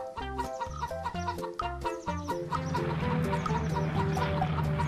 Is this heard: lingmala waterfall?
no